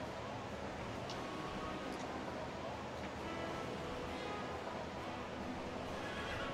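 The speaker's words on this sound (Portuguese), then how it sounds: "Tem um cavalo." A horse whinnies inside a video game, faint and distant, under a steady wash of ambient noise resembling surf, with a faint hint of hoofbeats.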